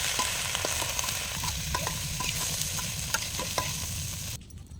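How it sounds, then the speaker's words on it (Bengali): Potatoes frying in hot oil after cauliflower, cooked for a winter-vegetable dinner with big fish: a steady, close sizzle with scattered spatters and pops, ending in a sudden cut to near quiet. "ফুলকপিগুলো তুলে আলু ভেজে নিব"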